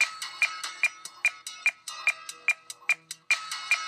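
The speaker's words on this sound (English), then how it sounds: "And you can hear that in the metronome as well." Sharp, bright rekordbox metronome clicks tick at a steady, fairly quick tempo, with accented beats standing out, close and alone.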